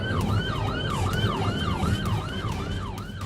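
A police car siren wails in a rapid, rising-and-falling warble during a high-speed highway pursuit at about 93 miles per hour. It is loud and continuous over road and engine noise.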